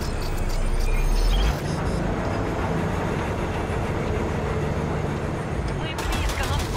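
A train wagon rolls along with a steady, loud rumbling clatter in Cyberpunk 2077, a deep low thud at the start and gunfire-like bursts near the end, voices talking over it.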